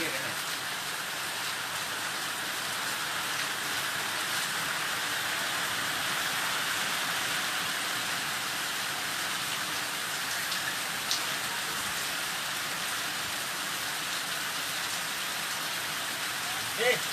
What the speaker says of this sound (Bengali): বৃষ্টি শুরু হয় বৃষ্টির সাথে সাথে